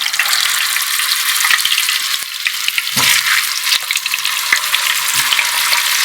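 Frozen unnakkaya, stuffed plantain snacks, frying in hot oil: a loud continuous sizzle with occasional sharp pops and a brief stir partway through, no talking.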